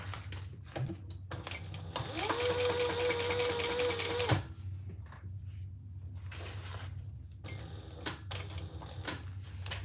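A sewing machine stitches a mini accessory, running in one steady whirring burst of about two seconds between quieter handling noises and faint clicks.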